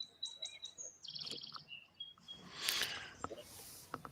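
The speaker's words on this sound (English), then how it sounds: "listening to the birds" Birds chirp and tweet in quick, bright bursts close by, with a brief rushing noise partway through.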